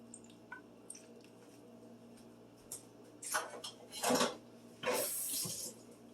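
Water swished around inside an emptied 8-ounce Aldi sauce can to rinse out the remaining sauce, with soft squishing, sloshing and metallic clinks, quiet and close, coming in short bursts.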